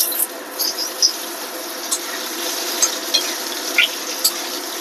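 Mango pieces fry in hot oil with dried chillies and a five-spice tempering, making a steady close sizzle with scattered sharp pops and crackles.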